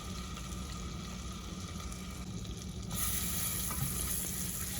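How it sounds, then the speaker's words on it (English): Garlic cooking in melted butter in a pot, a steady soft frying sizzle that grows slightly louder partway through, close and without talk. "Once you got your butter all melted, you're gonna add in your 1 tablespoon of garlic."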